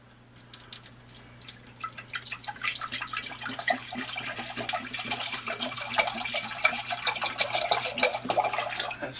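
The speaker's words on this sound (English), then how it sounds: "And we're going to put about 4 cups of it in here." About four cups of water pour into a pot, splashing and trickling steadily for several seconds at close range. A low hum sits underneath, and there is no talking.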